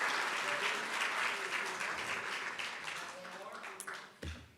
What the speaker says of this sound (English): Another round of applause for the senator.